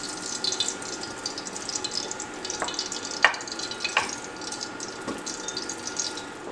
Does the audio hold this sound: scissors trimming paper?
no